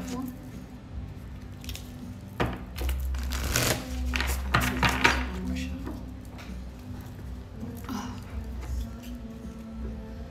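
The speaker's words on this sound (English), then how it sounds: "One more shuffle." A deck of oracle cards is shuffled during a tarot-style reading, giving a rapid run of soft flicking, riffling clicks in the middle that then thin out, fairly quiet against a faint background.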